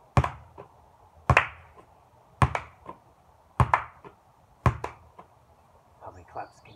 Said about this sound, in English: Now let's try bouncing clap.